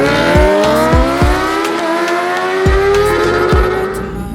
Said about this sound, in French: faisant hurler le moteur de sa bestiale Honda CBR 1000